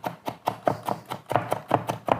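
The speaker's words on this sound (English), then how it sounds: "so I just do my ginger chopping" A knife chops fresh ginger on a cutting board for fried rice, about a dozen crisp, evenly spaced strikes in a quick steady rhythm, close and clear with no talking.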